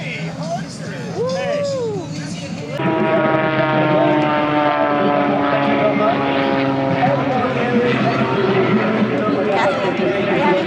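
Propeller airplane engine drones steadily at an air show, a sustained harmonic hum that swells in after a few seconds and holds loud and close, with chatter and a voice earlier.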